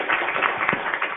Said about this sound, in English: Do you want to give a round of applause to our speakers?